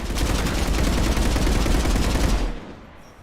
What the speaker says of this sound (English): the guns are already picking Cerberus ships out of the sky